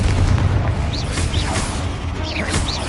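A Confringo blasting curse in Hogwarts Legacy sets off loud, dense booming explosions that roll on continuously for the whole stretch, with rumbling low end and scattered bursts over it, no talking.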